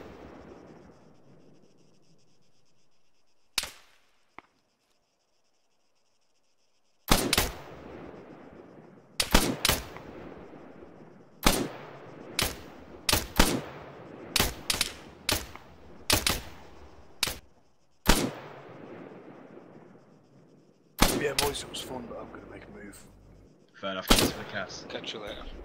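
Gunfire in the military video game Arma 3 cracks out as sharp single and clustered shots through a quiet patrol, loud and spaced irregularly, with a denser volley near the end.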